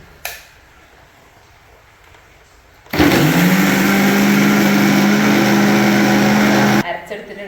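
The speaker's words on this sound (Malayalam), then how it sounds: "നമുക്കിത് നന്നായിട്ടൊന്ന് അരച്ചെടുക്കാം അധികം നല്ലോണം അരിഞ്ഞു പോകണ്ട ഒരു മീഡിയം ആയിട്ട് അരച്ചാൽ മതി" A mixer grinder grinding dosa batter to a medium consistency, a loud steady whine starting abruptly after a few quiet seconds and running unbroken before cutting off, with faint background sound around it.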